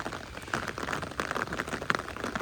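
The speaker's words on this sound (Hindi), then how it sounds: "बहुत ज़्यादा बारिश हो रही है" Heavy rain falling at night while people wait for a bus under a roof with a gap, a steady dense hiss with scattered louder drops, fairly close and without talk.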